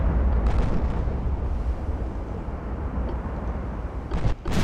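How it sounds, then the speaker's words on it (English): A torpedo strikes a warship in the naval battle game Ultimate Admiral Dreadnoughts: a loud, sustained, booming explosion rumble that rolls on for several seconds, with a fresh burst near the end. "we took one torpedo hit there"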